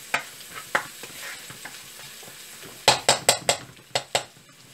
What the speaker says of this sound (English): Now we add the curry leaves and fry for some time